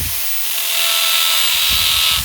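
An electric drill runs continuously at a steady high-pitched whine, loud and close, with the motor tone rising slightly partway through.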